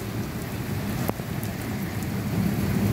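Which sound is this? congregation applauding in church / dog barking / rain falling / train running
rain falling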